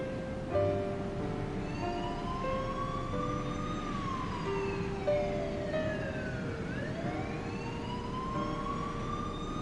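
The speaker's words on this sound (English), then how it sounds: "In the distance, she could faintly hear the sound of police sirens." Police sirens in the video game 428: Shibuya Scramble wail continuously, their pitch sweeping up and down over a low steady rumble, sounding somewhat distant.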